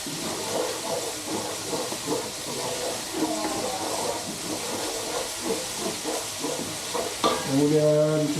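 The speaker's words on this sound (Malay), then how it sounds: "Tumis cili kita dulu." Chili sautéing in hot oil in a wok for nasi goreng, a loud continuous sizzle and hiss with rhythmic scraping stirs, close up, with faint voice-like tones near the end.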